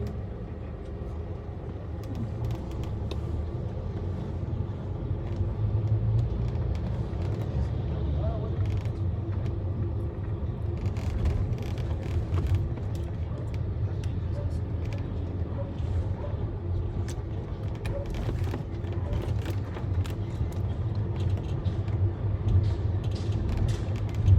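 Cars on a road in Morocco make a continuous low rumble of traffic and engine noise throughout, with faint voices mixed in.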